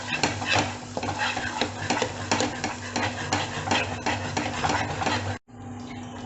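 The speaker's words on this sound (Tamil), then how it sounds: "ஸோ அவ்வளோ ஆட் பண்ணிவிட்டு just give it a nice mix" Coriander powder and green chillies stirred in a hot pan, brisk rhythmic scraping of a spoon over a continuous sizzle, then a sudden brief cut to quieter frying near the end, no speech.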